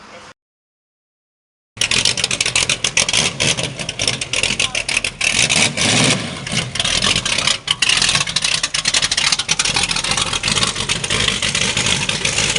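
Deep, unmuffled rumble of a 1945 hot rod engine with a cast iron block at a cruise-in, idling close by in a continuous throaty roar after a brief pause.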